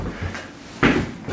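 The front door of a camper at a snowy ski-resort camping-car aire opens or closes with one close, solid clunk, preceded by quieter handling noise.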